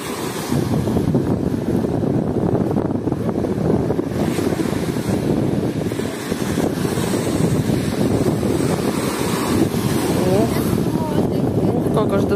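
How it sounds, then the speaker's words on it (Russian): Sea waves break and wash onto a beach at Anapa, a loud, continuous surf roar mixed with gusty wind buffeting the microphone. "Отойди, а то сейчас вон волна идет, сейчас тебя зацепит."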